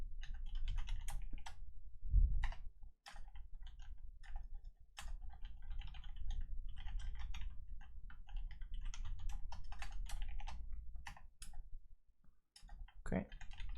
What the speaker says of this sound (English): Sometimes typing is really hard.